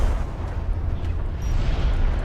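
A railgun unit destroyed in a Homeworld: Deserts of Kharak match, heard as a steady, heavy rumbling explosion roar with crackling debris, dense and loud throughout with no clear single impact.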